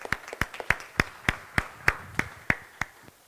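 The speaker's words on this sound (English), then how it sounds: "Let's give Tony and the building committee a round of applause for their continued hard work." Sparse, slow clapping from a small church congregation honoring a building committee, roughly a dozen distinct evenly spaced claps of moderate loudness over a quiet background.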